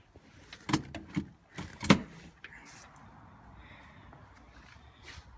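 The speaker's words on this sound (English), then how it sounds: "we're going to release it" Parking brake on a Mazda Miata released by hand, giving a few sharp mechanical clicks and a ratcheting clunk close by in the first two seconds, then quiet garage background.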